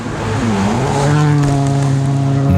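A rally car driven flat out on a special stage, its engine roaring loud and close at sustained high revs, pitch dipping briefly then climbing and holding as it accelerates.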